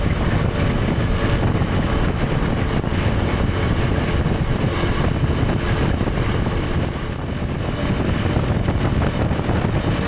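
A KTM 390 Adventure R motorcycle on the move holds steady between 5,000 and 6,000 revs, a continuous loud engine drone heavily mixed with wind roar across the microphone.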